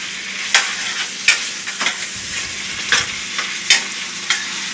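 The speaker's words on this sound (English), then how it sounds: "Constantly stir it so it doesn't stick and it all gets cooked even." Chicken and dumplings stirred in a pot, a series of sharp scraping strokes against the pot every half-second or so over a soft background sizzle.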